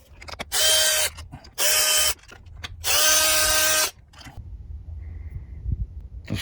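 A power tool loosens a fastener on a Toyota/Lexus 3MZ-FE V6 engine during valve cover work, with three loud, close whirring bursts and faint mechanical clicks and handling noises after them.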